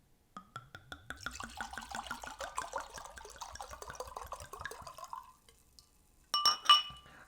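Cabernet Sauvignon-based wine poured into a glass, a gurgling, rising trickle that climbs in pitch for several seconds, then a pause and a few bright glass clinks at the end, close and quiet.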